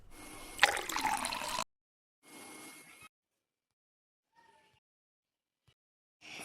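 Water pours into a vessel for making tea in a home kitchen, a short splashing pour followed by a second briefer one, then quiet with a few faint clinks.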